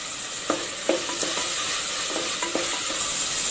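Tomato with coriander and mint sautéing in a pan, a steady loud sizzle with a few sharp scrapes of a spoon stirring the mix, no voices.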